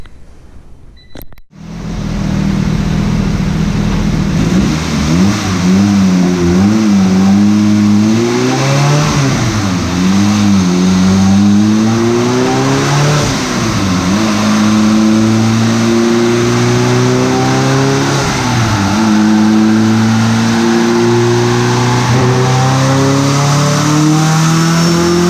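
A boosted Honda CRX engine revs on a dyno pull after a sharp start, climbing through repeated rising sweeps with dips at shifts, loud, sustained and close for over twenty seconds.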